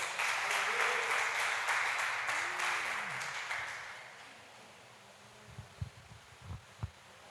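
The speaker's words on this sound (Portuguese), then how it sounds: "Você pode aplaudi-lo nessa noite." Congregation applause in a church service fills the first few seconds, then fades out, leaving a quiet hum and a few faint thumps near the end.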